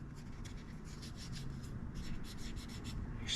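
Soft repeated rubbing strokes inside a Shimano SLX fishing reel as old grease is wiped out with a cotton swab, close and quiet with a steady rhythm.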